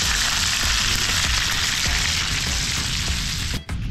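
Fish frying in hot oil in a pan at the beach, a dense continuous sizzle that stays loud and close and stops briefly near the end, with no voices.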